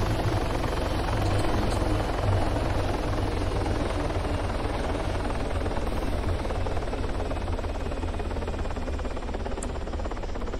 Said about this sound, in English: There's a heli over there